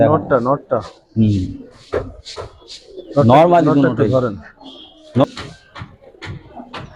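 Old Dhaka Giribaz pigeons, including silver types, coo in low throaty bursts mixed with someone talking close by, with faint clicks in between.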